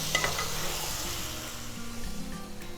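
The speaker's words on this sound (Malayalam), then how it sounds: "നല്ലോണം ഇളക്കുക." Chicken curry made with about 1.5 kg of chicken sizzles steadily in a pan as it is stirred, a continuous close frying hiss with faint scraping throughout and no talk.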